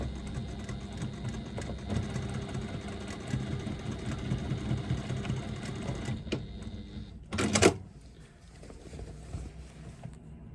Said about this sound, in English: And then stitching it 3/8 of an inch seam allowance.